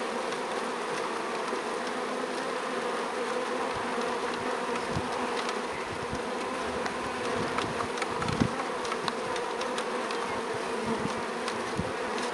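Dense, steady buzzing of many bees swarming close by, a continuous hum with occasional louder passes near the listener.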